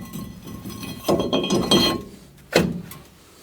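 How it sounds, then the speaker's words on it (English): Metal parts clinking and thunking while a brake rotor and caliper are fitted on a 1999-2006 Chevy Silverado 2500HD rear full-floater axle: a few scattered sharp knocks, two clusters of clanks, then a final louder clank, close by. "right now I'm going to go ahead and install this rotor and the caliper and get it all bolted back together"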